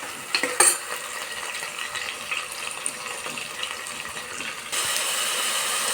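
Tomatoes fry in oil, a quiet steady sizzle with light scraping and stirring clicks from a utensil, growing slightly louder and more even toward the end.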